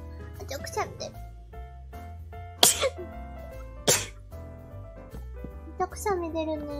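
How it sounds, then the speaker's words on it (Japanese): Several sharp, high-pitched sneezes from a streamer with seasonal allergies, loud close bursts at irregular intervals with background music and light talk between them. "くしゃみ出る。"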